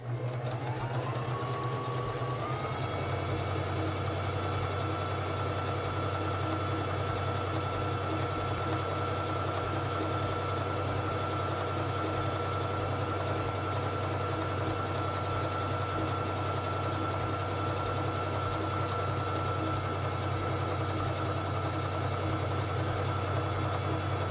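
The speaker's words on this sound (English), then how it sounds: "Now I'm going to sew the honeycomb stitch" A SINGER Fashion Mate 3333 free-arm sewing machine runs a steady honeycomb stitch, with a rapid even whir and rhythmic needle clatter that starts up and holds at constant speed, close and alone.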